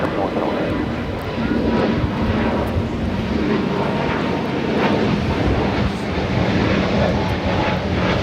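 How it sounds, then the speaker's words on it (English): Volaris Airbus A320neo taking off at Los Angeles LAX bound for Oaxaca, a loud continuous engine roar heard from a distance, steady and broadband with slight swells, with a voice talking over it. "This is Volaris 7851 taking off to Oaxaca on the A320 Neo"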